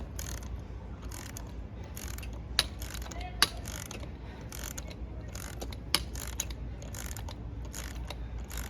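A ratchet wrench tightens a car lug nut, its pawl clicking in quick uneven bursts with a few sharper metallic snaps over a low steady background hum.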